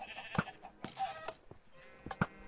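Sheep bleating in the Minecraft video game, two short bleats at the start and end with rustling game sounds between, fairly quiet and with no talk.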